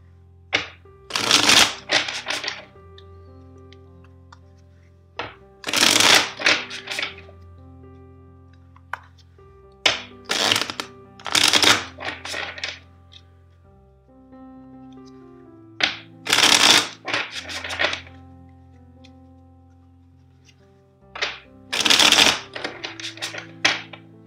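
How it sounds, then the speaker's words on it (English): Tarot cards are shuffled in several distinct bursts, each a quick riffling flutter separated by pauses, close and crisp over a faint background tone. "let's shuffle the deck four times for you"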